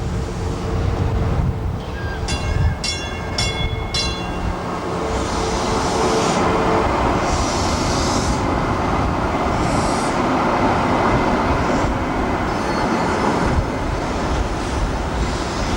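A Los Angeles Blue Line light rail train rumbles through the crossover at Anaheim, Long Beach, on its 1990 opening, a loud continuous roar with bright bell dings early on and squealing wheel noise as it passes close.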